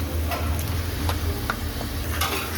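About 1.25 kg of washed, dried chicken pieces go into hot oil and are stirred, producing a crackling sizzle broken by several scraping stirs and clinks against the pan, with no speech.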